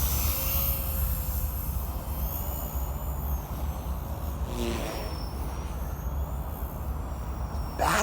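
A small Blade Fusion 180 RC helicopter hovers close by with a steady, high rotor and motor whine that holds on without a break.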